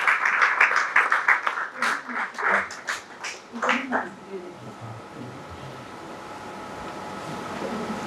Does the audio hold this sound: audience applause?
yes